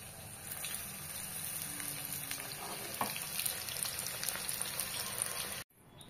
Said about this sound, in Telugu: స్లైస్ చేసిన ఆనియన్స్ గోల్డెన్ బ్రౌన్ వచ్చేదాకా ఫ్రై చేయాలి